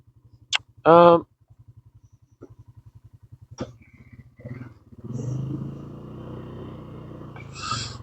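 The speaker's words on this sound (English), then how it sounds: "Where am I going to park this absolute unit of a bike to?" A large motorcycle idles with a steady low, rhythmic putter, then becomes a rougher, fuller rumble toward the end, with a person talking over it.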